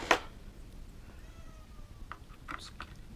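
A cat meows faintly in a drawn-out, wavering cry, followed by a few small clicks and taps nearby in an otherwise quiet room.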